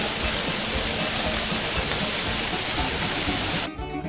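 A water wheel turns at an outdoor restaurant, splashing water in a loud, steady rush that drops away abruptly near the end.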